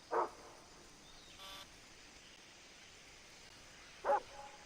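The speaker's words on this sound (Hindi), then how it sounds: "और जंगल के अंदर देखो भाई एक कुत्ता भी है" A dog in the jungle of the video game Far Cry 3 gives two short, faint barks several seconds apart over a steady hiss of background ambience.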